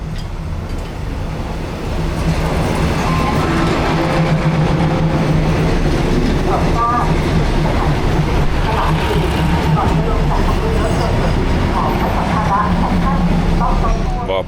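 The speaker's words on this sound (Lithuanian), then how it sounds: "Ir atvažiuoja traukinys." A train pulls in at a station in Thailand, a steady loud rumble with rail clatter and a sustained low drone rising after two seconds and continuing throughout, with background voices mixed in.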